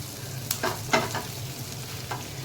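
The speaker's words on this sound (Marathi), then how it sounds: "हे मी बारीक गॅसवर भाजून घेते आपला कांद्याचा रंग थोडासा बदललाच" Onion roasting in a pan over a low flame, heard as a soft steady frying hiss with a few short scraping stir strokes near the start and one more near the end, close and fairly quiet with no voices.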